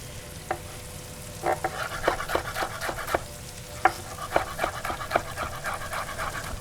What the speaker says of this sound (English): I have some jalapeno. Give this a little bit of a